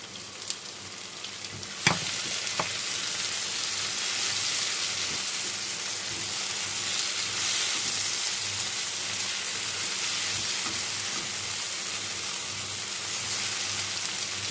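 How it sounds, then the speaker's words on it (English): Fresh tomatoes, two medium ones, sizzle steadily in a hot pan, a dense continuous frying hiss with a sharp clatter near the start and occasional soft stirring taps, no voices. "So we're now going to add 2 medium-sized fresh tomatoes."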